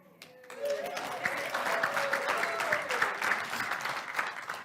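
Applause starts after a brief quiet moment and builds into steady clapping from a congregation audience, with a cheer or whoop rising above it before the clapping settles into an even wash.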